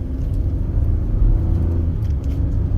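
A 2019 Ford F-150 pickup pulls away under heavier throttle, its engine giving a steady, loud low rumble that holds for a few seconds with no voices.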